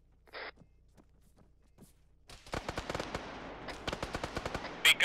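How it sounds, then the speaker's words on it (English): Arma 3 gunfire: after a quiet stretch with a few faint distant pops, a rapid run of loud sharp shots and bursts breaks out, close and repeated like automatic weapon fire, ending in two heavier blasts. "Hudson, I'm shooting over you"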